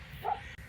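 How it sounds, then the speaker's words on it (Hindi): A dog barks outdoors at night: one short, faint bark from some distance over a steady low background hum. "यहाँ पे एक डॉगी जो बार बार भौंक रहा है"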